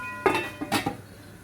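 A metal lid set down on a cooking pot of chicken jalfrezi, giving a sharp clank followed by a few lighter rattles as it settles, close and fairly quiet with no talking.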